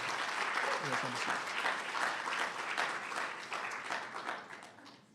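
Sustained audience applause honours business-competition finalists at a live event, loud and dense throughout before tapering near the end, with a brief voice briefly heard early on.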